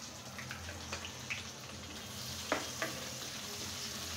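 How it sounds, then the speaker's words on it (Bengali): Whole garlic cloves and chopped onion fry in hot oil with a steady, close sizzle, a few soft stirring clicks and spatters rising over the constant hiss. "আমি এখন এর ভিতরে এই যে গোটা রসুন আর পেঁয়াজটা দিয়ে দিচ্ছি।"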